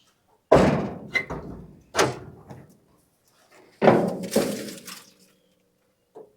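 The hood of a 1967 Chevy C20 pickup is worked open with several heavy metallic thunks and clanks, each followed by a short rattle, with quiet gaps in between.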